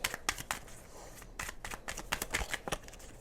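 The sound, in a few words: shuffling a deck of tarot cards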